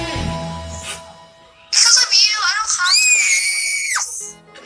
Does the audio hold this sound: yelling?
yes